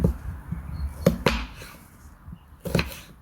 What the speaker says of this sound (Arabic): نبلش تقطيع الخضرة،